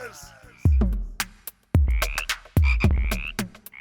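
Cartoon frogs croak loudly in repeated deep, booming bursts, several overlapping close up, with no voices.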